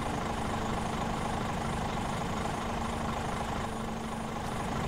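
A tractor engine running in Farming Simulator 22, a continuous dense low rumbling drone with a steady hum, loud and unchanging throughout, no talking.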